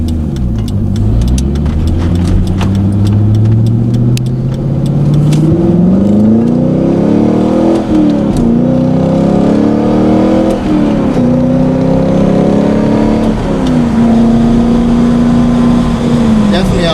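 Car with a short-throw shifter pulling hard on an open road, engine pitch climbing steadily then dropping at each gear change, repeating through several gears, loud and continuous from inside the cabin.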